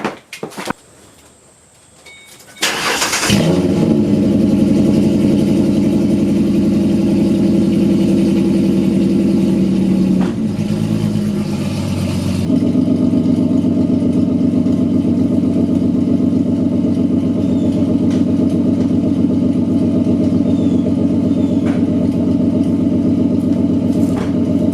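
A Ford Mustang S197 with a 4.0 V6 idles in park, a close, steady low rumble that holds evenly after starting up, with a brief dip and change in tone midway.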